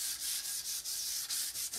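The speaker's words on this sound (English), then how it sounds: "Gonna give it just a light sanding in between" Light hand sanding of a painted wooden sign between coats, heard up close as about eight even, rhythmic rubbing strokes with brief pauses between them. No one speaks.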